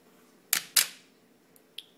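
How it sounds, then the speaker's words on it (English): A camera shutter fires in two sharp, close clicks half a second apart, then two fainter ticks follow, suggesting a longer exposure setting in a quiet room. "And you can hear the shutter speed get longer if you pay attention."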